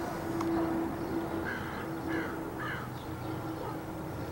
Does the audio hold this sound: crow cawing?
yes